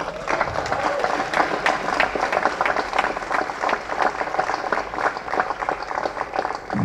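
Sustained audience applause at a film first-look launch event in Chennai, a dense, steady wash of many hands clapping throughout with a few cheers mixed in, loud and continuous.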